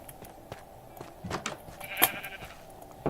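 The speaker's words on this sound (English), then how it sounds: "See, we've got blue sheep here." Faint Minecraft sheep bleats, a couple of short nasal calls amid soft clicks and quiet background tones.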